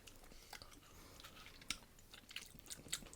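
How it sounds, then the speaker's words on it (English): Chewing a cake Oreo snack close to the mic, with soft crunchy, moist bites and mouth sounds in an uneven rhythm, quiet, with no talk. "I'm still chewing on that cake Oreo thing"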